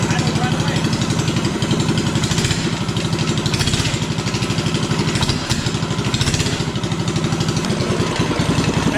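A small engine on a homemade mini bike runs loud and close, firing and settling into a steady, buzzy chugging with rapid even pulses, with no voices over it.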